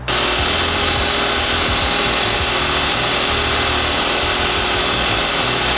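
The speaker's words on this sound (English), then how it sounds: "And then I'll actually put it on a very fine sander." Leather shoe sole on Santoni loafers being sanded on a fine sander, a loud continuous whirring rasp held steadily close up without any speech.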